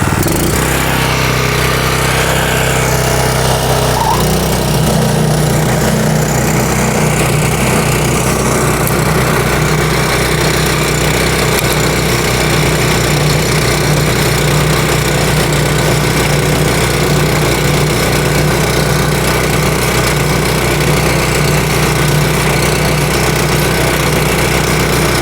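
A gas-powered lawn edger runs loud and continuous as it cuts lawn edges about two inches deep, its engine droning steadily throughout with no break.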